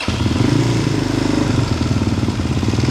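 Fantic Caballero 250 Flat Track motorcycle with an Arrow exhaust, running steadily and loud up close with a throbbing low single-cylinder beat and mechanical clatter, no voices over it.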